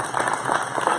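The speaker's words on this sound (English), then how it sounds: "round of applause for everyone" Audience round of applause at a film event at Longleaf Studios in Jacksonville, Alabama, a steady dense wash of clapping throughout the short moment with no talk.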